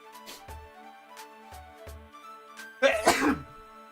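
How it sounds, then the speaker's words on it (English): One sharp, close sneeze bursts out near the end, after a few soft sniffs and small mouth noises in an otherwise quiet room. "I might sneeze again, honestly."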